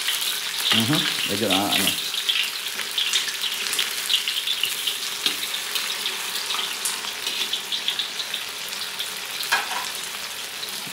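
Tofu (tokwa) frying in a pan on a home stove, a steady close sizzle and crackle running throughout, with brief clatter and a short spoken remark near the start.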